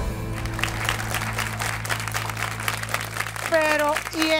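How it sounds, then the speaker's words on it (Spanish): Studio audience applause on a Spanish-language television talk show, a steady wash of clapping under a continuous background music bed, with a voice cutting in near the end. "y el aplauso de Alicia"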